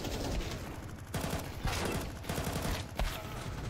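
Galil rifle fire in Counter-Strike 2 arms race mode, a dense stream of rapid automatic shots with sharp cracks standing out, busy and continuous but a little muffled in the mix.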